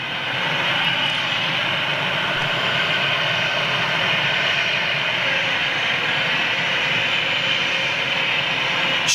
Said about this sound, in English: And here comes a 757 right behind him now.